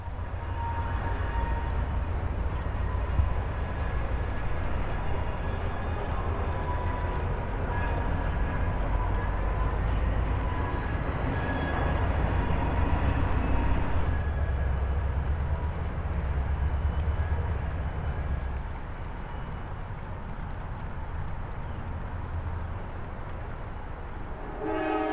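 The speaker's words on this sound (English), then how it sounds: "an I&O local enters the same Y on the east leg and follows the NS local to the yard" An I&O local freight train rolls past nearby at a steady, loud rumble, with sustained horn blasts sounding through the early part and a shift in the rail noise partway through.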